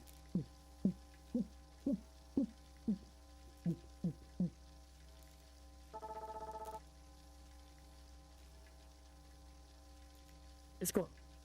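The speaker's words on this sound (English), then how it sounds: "Does that sound like a heartbeat?" Heartbeat sound in the horror survival game Subterrain: Mines of Titan, a run of eight soft, low thumps at a steady quick pace over a constant hum, followed by a short buzzing tone and a later sharp click.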